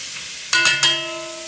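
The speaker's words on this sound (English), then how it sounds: "I'm going to give my bacon a good stir here." Bacon stirred in a pot, cooking for chili: a steady frying sizzle with a couple of scraping stir sounds and a brief clatter partway through, close and alone.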